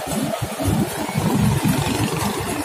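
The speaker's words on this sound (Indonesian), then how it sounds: "Ada motor tidak ngebel." A motorcycle engine drones steadily at close range beside rice fields where a harvesting machine works, a continuous mid-pitched rumble with slight surges, no talking.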